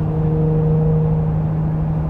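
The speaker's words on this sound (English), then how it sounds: "a blue flippy headlight early Acura NSX coming up right here" An early blue Acura NSX with flip-up headlights goes by outside while the listener sits in a 2023 Ford F-350 Super Duty pickup, heard as a loud, steady rumbling whir with an even low drone.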